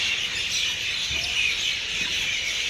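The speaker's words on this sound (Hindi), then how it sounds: "ये छोटी छोटी पक्षी हैं जिनमें शोर ढाला हुआ है" Small birds chirp in a continuous high twittering chorus in the early morning outdoors near Mander, Poonch district, moderately distant and with no voices.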